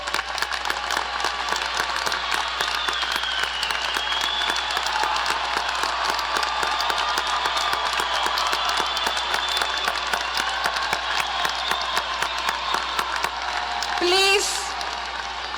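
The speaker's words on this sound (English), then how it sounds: "Please join me in a round of applause." A commencement crowd applauds for the graduates' families in a large hall, clapping that stays steady and dense from start to finish with no gaps, broken near the end by a brief whoop or shout.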